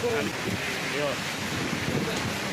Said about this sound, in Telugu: వాన మస్తు పడుతుంది.